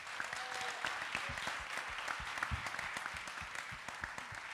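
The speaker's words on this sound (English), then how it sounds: "Big round of applause for Jeannie." Audience applause at an entrepreneurship pitch competition, a soft, sustained patter of many hands with occasional low thumps mixed in, heard at a modest distance.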